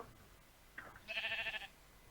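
A single short, nasal Minecraft sheep bleat rises out of a quiet background and sounds close. It has the clean, synthetic feel of a game sound effect.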